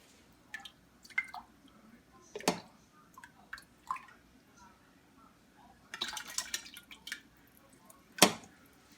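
Fresh tomato puree being poured into a pot for pasta sauce, soft wet splats, drips and squishes in scattered bursts, with someone talking quietly in between.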